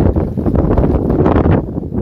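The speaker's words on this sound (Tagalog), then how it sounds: "Malakas ng hangin." Strong wind buffets the microphone with a steady low roar, loud and continuous for a couple of seconds, no voices.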